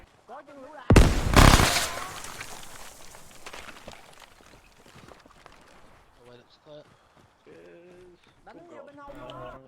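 A frag grenade bursts inside a building in a video game, a sudden loud broadband blast with a decaying rumble and scattered debris clatter, followed by players talking over the quieter aftermath.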